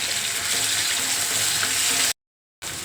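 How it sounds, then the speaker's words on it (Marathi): Onion sautés on a high flame with a constant loud sizzle and occasional stirring, close by, broken by a short silent gap near the end before the frying resumes. "आता आपल्याला हा कांदा सुद्धा मोठ्या गॅसवरच परतवून घ्यायचा आहे"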